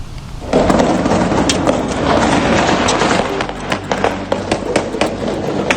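Rapid bursts of gunfire aimed at a drone near a presidential palace crackle over a dense roaring background, sharp cracks repeating unevenly throughout.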